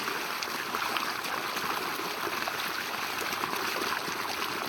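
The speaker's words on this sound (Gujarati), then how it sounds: "હાથ પગ હારો ધોઈ નાખ્યું" Steady rushing of running water splashing continuously, close by, with no voices.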